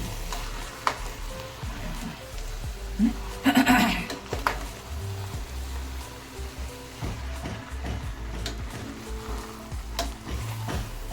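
Chicken curry with onion being stirred in a pan, giving a steady close sizzle with a short louder burst of scraping and spattering from the stir partway through.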